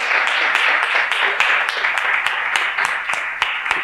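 A conference audience breaks into steady applause for the winning teams of a startup pitch competition, a dense, continuous wash of clapping with sharper individual claps on top, and faint talk mixed in.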